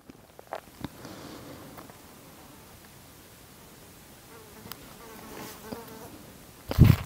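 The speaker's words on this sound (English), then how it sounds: "Oh, it's just a fly." A fly buzzes faintly around a quiet indoor room, with soft intermittent rustles and a louder close pass at the very end.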